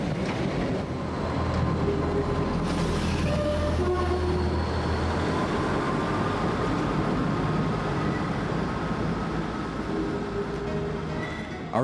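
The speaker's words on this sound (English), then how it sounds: "Our train leaves for Fort William in the north, one of Scotland's most popular holiday destinations." Passenger train departing Glasgow Central Station bound for Fort William, a steady low rumble of moving rail cars with faint tonal squeals and wheel noise running throughout, continuous and fairly close.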